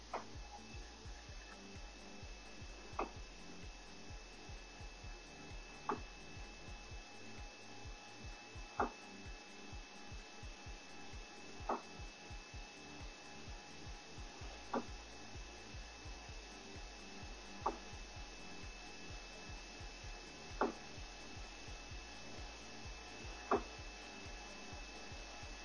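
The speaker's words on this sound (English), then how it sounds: "And then it will start cutting." Vulcan FC500VC flatbed cutting machine cutting under a steady vacuum-pump hum, with a regular rhythm of sharp ticks and clacks recurring about every three seconds against a dense mechanical whir, close and moderately loud, no talking.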